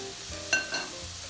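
Shrimp fry in a thin single layer in a hot pan for chowmein, giving a steady close sizzle with a couple of short sharp pops and crackles and no voices.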